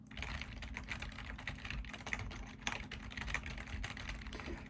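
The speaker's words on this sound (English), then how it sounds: "What if I typed a little bit faster?" Rapid typing on a computer keyboard, a steady close stream of dense key clicks with no pauses, alone in a quiet room.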